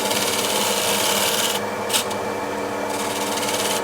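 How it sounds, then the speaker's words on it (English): Steel card scraper shear-scraping the curved foot of a wooden chair, a steady continuous rasping rub close up with a brief pause midway, no voices. "Now with the scraper, just want to refine this"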